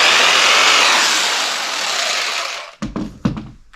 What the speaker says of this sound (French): Une scie sauteuse.